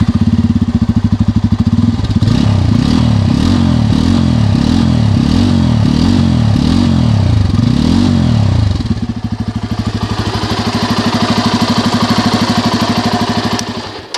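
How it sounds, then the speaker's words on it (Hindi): A motorcycle with a monoshock rear suspension and no kick-start option revs loudly in a series of about seven rhythmic bursts, then settles into a steady, close idle that fills the rest of the clip. "बाकी इसका जो एग्जॉस्ट नोट है वो मैं आपको सुना देता हूँ।"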